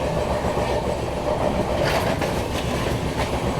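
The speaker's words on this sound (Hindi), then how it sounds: "ये देखो सामने WP5 के साथ कोई तो ट्रेन आ रही है" An Indian Railways train runs, with a WP5-hauled Pune Duronto Express approaching. Loud, continuous rail rumble and rhythmic wheel clatter fill the short clip evenly, with no voices.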